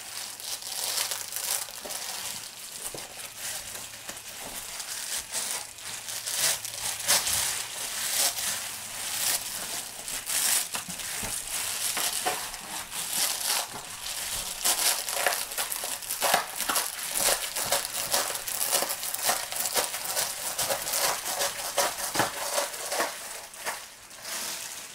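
Reflectix radiant barrier crinkles and crackles continuously as it is slid into a garage door panel, a loud, close, papery rustle lasting the whole stretch.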